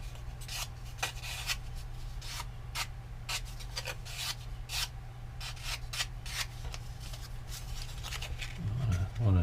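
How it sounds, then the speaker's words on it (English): Heavy-grit sandpaper rubs wood in quick, irregular rasping strokes, close and fairly soft over a steady low hum. "Use a pretty heavy grit of sandpaper because we want to make this work quicker."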